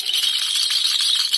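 A heavy baby rattle toy is shaken continuously, making a dense, bright, hissing rattle that stays loud and close from start to finish.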